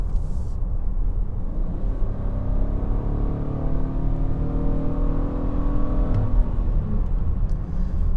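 A 2022 VW Atlas with a 3.6-liter VR6 engine drones steadily while driving, its smooth engine note rising and holding under a constant road hum from inside the cabin.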